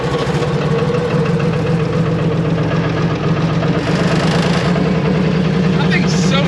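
New Holland skid steer engine running at a loud, rough idle with a heavy rhythmic knock and strong vibration, steady and close throughout.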